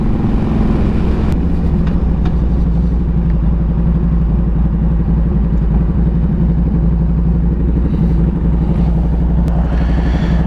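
A Harley-Davidson Road King with a freshly rebuilt carburetor, new headers and new cables runs steadily nearby, its loud, lumpy engine pulse rumbling without a break and with no talking.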